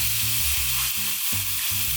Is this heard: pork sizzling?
yes